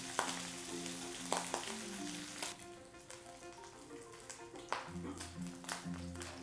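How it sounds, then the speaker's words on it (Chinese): Pork slices for Hakka preserved-mustard braised pork fry in hot oil in a pan, producing a continuous bright sizzle with spitting crackles and a few spatula taps. "油有看到油烧落去按让那个猪肉放落去煎"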